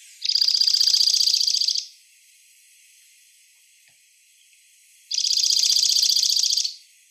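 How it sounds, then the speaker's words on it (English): A dark-eyed junco sings two high, rapid trills, each about a second and a half long and separated by a few seconds of quiet, clear and fairly near with no other sound. "I'm already hearing the dark-eyed junco singing."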